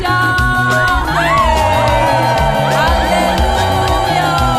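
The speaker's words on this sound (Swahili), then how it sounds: "Mpigieni Mungu kelele za shangwe!" A church congregation celebrating Christmas lets out loud joyful shouts, whoops and cheers, a dense crowd roar carried over steady rhythmic music with sliding vocal cries.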